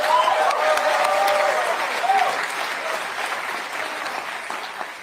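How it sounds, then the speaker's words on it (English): A youth rally crowd in Toronto applauds, a loud, dense wash of clapping with some cheering voices, holding steady before easing slightly. "Give Liam a round of applause."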